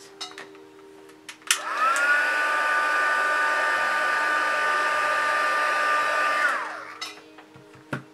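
A heat tool used to set paint on a doll's lips switches on with a click, blows a steady, even whoosh for about five seconds, then winds down, with faint handling noises before and after.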